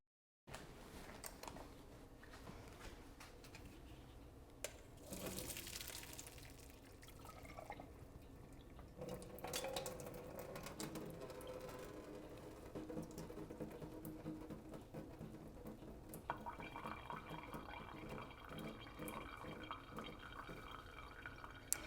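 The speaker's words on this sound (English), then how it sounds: "I'm going to go over there and drain my pasta real quick" Cooked pasta being drained in a kitchen sink, a steady wash of pouring water and dripping that runs throughout at a moderate, fairly faint level, with no talking.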